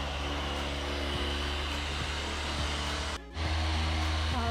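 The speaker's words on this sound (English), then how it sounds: "Polishing up the driver's side." Car polisher working the driver's side paint of an Acura TSX, a steady loud droning whir that runs continuously with one brief dip before resuming, no voices.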